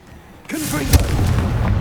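A Confringo blasting spell from Hogwarts Legacy goes off in one sharp close burst, followed by a crackling, rumbling blast tail and low background game noise.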